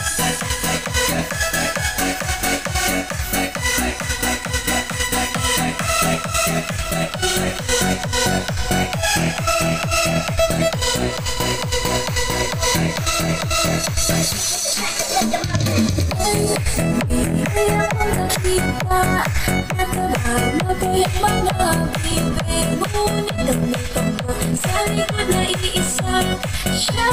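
A BFA 826 speaker with an 8-inch driver plays loud, beat-driven music continuously, with a brief drop near the middle before the steady rhythm resumes.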